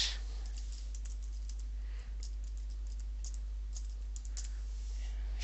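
Quick bursts of clicking keystrokes on a computer keyboard, light and fairly close over a faint steady hum, with no voices.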